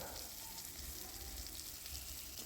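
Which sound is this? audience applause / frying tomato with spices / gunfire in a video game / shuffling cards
frying tomato with spices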